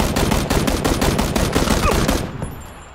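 Rapid automatic gunfire in the video game PUBG sounds as a loud, continuous burst of closely spaced shots, then stops abruptly, leaving a fading echo.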